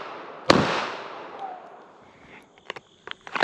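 A single loud gunshot at an outdoor shooting range, a sharp near blast with a long decaying echo, followed by a few lighter metallic clicks and knocks.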